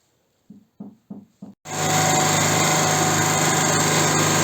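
A Chinese gasoline generator without automatic voltage regulation starts after several short pull-cord tugs, then runs alone with a loud, steady high-pitched engine drone and constant whine that holds unchanged to the end.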